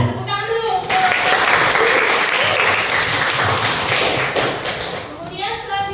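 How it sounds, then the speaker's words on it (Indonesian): A classroom of students breaks into sustained applause, dense and steady clapping for several seconds before tapering off, with voices at the start and end. "Tepuk tangan dulu."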